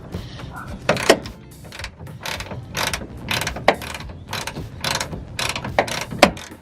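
A 10mm ratchet works a screw loose on a 2015-2018 Chevy Colorado/Canyon tailgate, giving repeated close metallic clicking strokes in a steady rhythm, roughly a dozen bursts.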